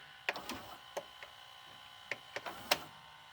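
A Symphonic SL2860 4-head Hi-Fi stereo VCR rewinding with its cam gear turning gives a sparse run of sharp mechanical clicks and short whirring ticks, close and fairly quiet, with no voices.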